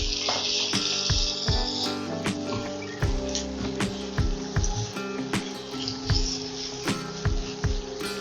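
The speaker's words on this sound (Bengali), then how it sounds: "তেল গরম হয়ে গেছে এখন পেঁয়াজ দিয়ে দিচ্ছি" Onions dropped into hot mustard oil in a pan, a crackling sizzle with repeated sharp pops and clinks of stirring spaced through the clip, close and clear with no talking.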